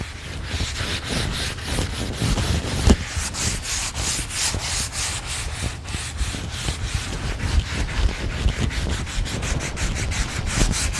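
Steady hand sanding of a wooden staircase with 150-grit sandpaper, continuous rasping rubs with rhythmic back-and-forth strokes, close and fairly loud, no talking.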